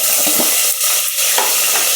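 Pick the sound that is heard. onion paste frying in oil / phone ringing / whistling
onion paste frying in oil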